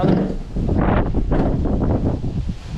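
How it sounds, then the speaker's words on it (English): Steady, loud wind buffeting the microphone outdoors, a low continuous roar with gusty surges throughout. "it's windy"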